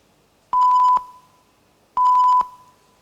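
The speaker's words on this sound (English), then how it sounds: "the team will hear the beep twice." Two identical electronic timer beeps at a business case competition presentation, about a second and a half apart, each a steady half-second tone with a brief fading tail, otherwise quiet.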